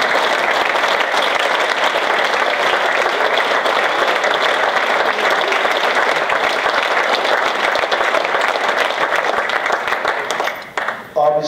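Sustained audience applause at a Massachusetts hockey hall of fame awards ceremony as a family stands, a long dense wash of clapping from a large room that fades briefly near the end before a last burst.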